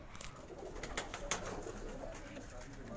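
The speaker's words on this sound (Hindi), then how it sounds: "लो कबूतर तो बहुत है।" Several pigeons cooing close by in a loft of high flyer and low flyer breeds, soft repeated coos over a constant background hiss with faint rustling, no talking.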